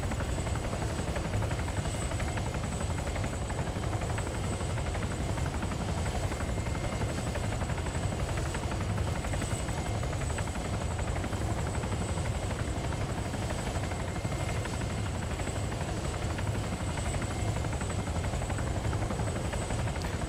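Continuous helicopter rotor thrum with a steady high whine, constant and unbroken throughout, no voices.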